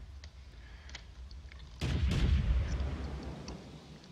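A single heavy artillery impact hits a tank in World of Tanks during a clan wars battle, a sudden loud boom over a low engine rumble that fades over a couple of seconds.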